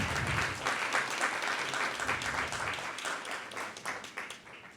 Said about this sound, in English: let's give Kate and Ingrid a round of applause if we can, please